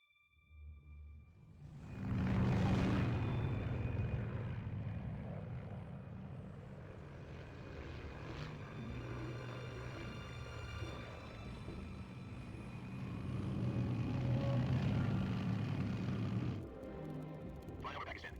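Aircraft in flight at 30,000 feet over Pakistan in Metal Gear Solid 3, a loud sustained engine roar and rushing drone that swells, steadies, surges again and then cuts off near the end.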